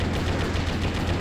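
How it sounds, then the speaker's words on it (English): Explosions and gunfire blast continuously in the mech action game Metal Wolf Chaos XD, a dense, loud barrage of rapid booms and crackling. "Yeah, there's an explosion."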